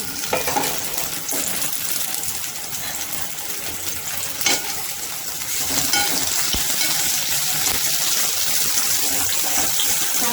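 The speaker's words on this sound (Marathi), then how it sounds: "कांदा गुलाबी गुलाबीचा रंग भाजून घ्यायचा" Onions frying in oil with green chilli, garlic and ginger pieces for palak paneer make a loud, constant sizzle with a few spatula scrapes, and the crackle swells and grows brighter partway through.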